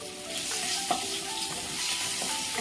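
Curry leaves crackling and sizzling in hot oil, a continuous close frying hiss with a few sharp pops and light stirring.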